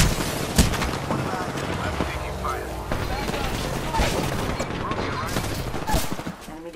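Heavy overlapping gunfire in the shooter Apex Legends, dense rapid shots and cracks from several weapons that run on without a break, with a player talking over the fight.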